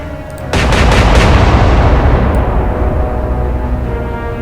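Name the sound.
naval gun turrets firing in video game Atlantic Fleet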